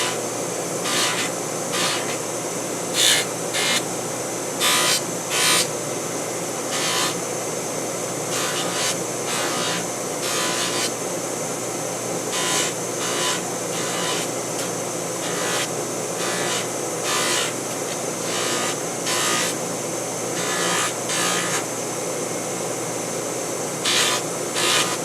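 A buffing wheel polishing metal keeps up a constant whirring hum, while frequent short, brighter bursts of friction rise above it each time the metal is pressed against the spinning wheel.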